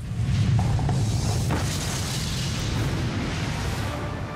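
An explosion scene from the James Bond film Spectre brings a deep, sustained rumbling boom with crackling debris, loud and dense from start to finish, with no talk.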